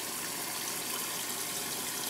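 Water pours steadily into a container during RV unwinterizing, a continuous broadband hiss and gush that is fairly faint and unchanging throughout, with no voices.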